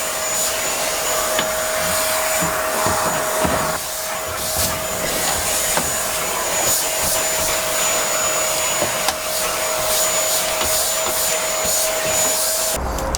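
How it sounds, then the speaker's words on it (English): Vacuum cleaner hoovering the floor pan of a car, a steady loud motor whine and rushing airflow running the whole time, with slight shifts as the nozzle moves. "it's been hoovered"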